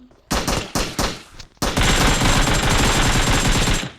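Gunfire in the mobile battle-royale game PUBG Mobile: several sharp short bursts, then loud, continuous automatic fire that runs to the end, close and dominant with no talking.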